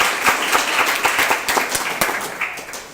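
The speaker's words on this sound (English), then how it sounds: "Round of applause for Township" Applause from an audience at a Startup Grind event in Tallahassee for the caterer Township, close, moderately loud clapping with distinct individual claps that tapers off by the end.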